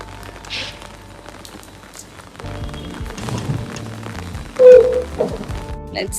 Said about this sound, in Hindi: बहुत तेज तेज बारिश हो रही है।